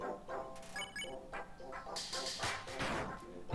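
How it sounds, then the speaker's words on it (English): Cartoonish dog enemy barking in the video game Undertale, a quick run of short, bright synthetic yaps and tonal blips heard alone at low volume. "Does a lot of barking."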